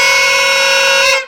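A single loud, sustained horn blast from a homemade vehicle built by children, steady and close, cut off sharply at the end.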